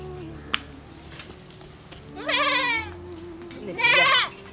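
A goat bleats twice, each a wavering, loud call from close by, at a farmyard where it is being given water; a short click comes earlier over quiet background.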